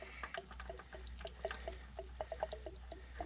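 Water trickles and drips from an RV hot water tank being drained in a quick, irregular patter, fairly quiet and close, with a low hum steady underneath.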